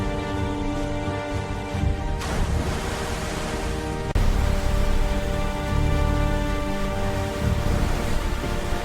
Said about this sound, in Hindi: उसी समय तेज बारिश शुरू हो गई।